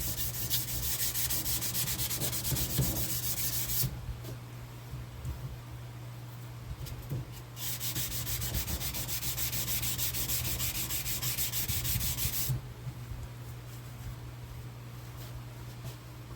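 Block sanding the pitted metal surface of a firearm using the flat spot of the sander, a steady abrasive rubbing hiss that runs in long strokes, fading briefly twice before resuming, close and continuous with no talking.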